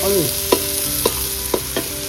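Taro leaves hiss and sizzle in a hot pan while a spoon stirs them, the steady frying noise broken by four light scraping knocks at regular intervals.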